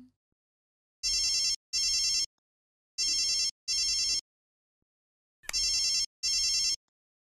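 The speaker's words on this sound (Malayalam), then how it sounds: "എനിക്കൊരു ഫോൺ കോൾ വന്നു." A telephone rings for an incoming call: three pairs of loud electronic double rings, evenly spaced with silent gaps between them, with no voices present.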